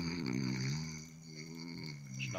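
One long, drawn-out snore rumbles close and steady for a couple of seconds, low and droning with a slight rise at the end.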